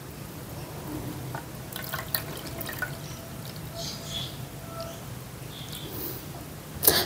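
Water trickles and drips softly into semolina halwa in a pot as it is stirred, faint and intermittent over a quiet background.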